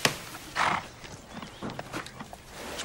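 A horse whinnies in one brief, bright burst near the start, then quieter hoof clops and shuffling movement follow at a moderate distance with no talking.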